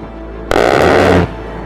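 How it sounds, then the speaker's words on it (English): A single sustained burst from the A-10's 30mm aircraft cannon, a dense roaring buzz lasting under a second, loud and abrupt against a low background rumble. "The primary weapon of the A-10 is the 30mm cannon"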